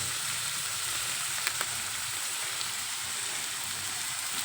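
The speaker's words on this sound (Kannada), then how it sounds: "ಈರುಳ್ಳಿ ಫ್ರೈ ಆಗ್ತಾ ಇರಬೇಕಲ್ಲ ಇದಕ್ಕೆ ಸ್ವಲ್ಪ ಅರಿಶಿನ ಹಾಕೋಬೇಕು" Onion frying with turmeric in a pan gives a steady, dense sizzle that holds close and even throughout, with a couple of small pops and no talking.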